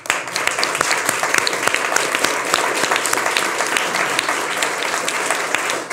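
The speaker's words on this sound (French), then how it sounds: "On peut vous applaudir." Studio audience applause on a French television talk show set, a dense, loud, steady clapping that runs unbroken for several seconds with no voices over it.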